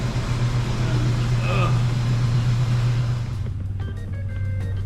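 A custom 1959 Chevy Apache truck engine drones loudly with a deep steady rumble, then the roar drops off toward the end as voices talk over it.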